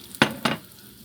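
Oil in a frying pan gives two sharp sizzling bursts close by as something is stirred or added, each fading to a soft background crackle.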